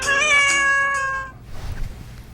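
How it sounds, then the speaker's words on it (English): A house cat gives one long, clear meow close by, then falls quiet into faint room noise. "Your kitty cat says someone is trying to call you."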